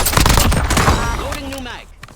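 Dense burst of rapid gunfire from a Warzone battle royale video game, loud and close at first, then fading into a quieter tail with a rising electronic whine near the end.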